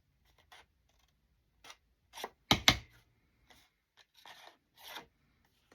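Scissors snipping paper while making ephemera, a handful of short, crisp separate cuts spaced apart, close and fairly quiet, with a stiff double snip in the middle.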